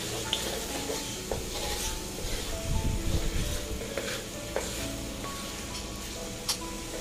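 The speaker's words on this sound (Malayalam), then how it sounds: "ഇതുപോലെ ലോ ഫ്ലെയിമിൽ വെച്ച് ഇടയ്ക്കൊക്കെ ഇളക്കി വറുത്തെടുക്കാം." Meat ghee roast with curry leaves fries on a low flame, a soft continuous sizzle broken by scraping stirs and a cluster of louder clattering strokes in the middle.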